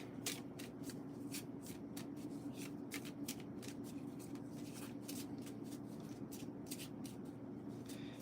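Deck of cards for the Space Marine Adventures board game being shuffled, quick repeated riffling and flicking strokes over a steady low hum, close and continuous for several seconds.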